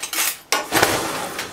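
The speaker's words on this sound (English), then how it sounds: "I'm going to mix everything together." Egg, natto, rice and a little shoyu being mixed in a bowl, a short run of utensil clinks and scrapes against the dish, close and clear with no talking.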